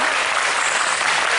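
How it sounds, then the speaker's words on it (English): A festival crowd at a food and wine event presentation bursts into loud, dense applause, a continuous close wash of clapping with no gaps. "A big round of applause for Chef Michael."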